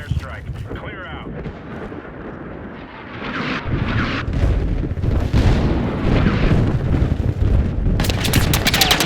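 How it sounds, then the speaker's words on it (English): Loud airstrike explosions and booming blasts from the Battlefield video game, with heavy low rumble building and sustained through the second half, layered with crackling impacts and a burst of gunfire-like clatter near the end. "You are dangerous close to an airstrike."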